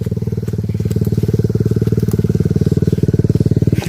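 A Honda Megapro engine fitted in a trail motorcycle, ridden on an off-road trabas track, runs with a loud, steady, rapid low thumping throb for nearly four seconds before cutting off abruptly at the end.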